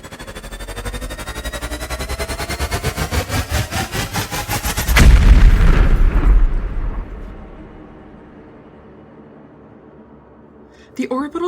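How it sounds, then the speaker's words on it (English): Orbital laser strike effect: a rising, pulsing electronic buzz builds for several seconds, then a loud booming blast that rumbles and fades away, followed by a short burst of sound at the end. "The orbital laser strike comes diagonally."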